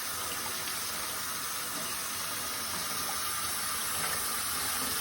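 A tap runs steadily into a sink for handwashing during a nursing care skill demonstration, a constant close rushing of water with no voices.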